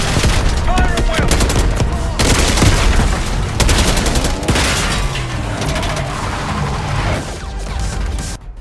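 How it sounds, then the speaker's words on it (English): Heavy gunfire in a Call of Duty Black Ops 6 cutscene: loud, rapid bursts of automatic fire and crackling shots with booming impacts, dense for several seconds before thinning near the end. "Fire at will!"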